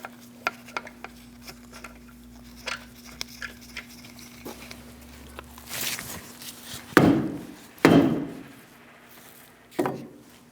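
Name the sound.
hammer whacking a lug nut stud on a Mini Cooper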